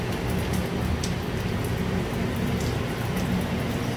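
Rain pours down outside a building with a fire-damaged roof, a constant dense hiss of falling water steady throughout at moderate level, with no speech over it.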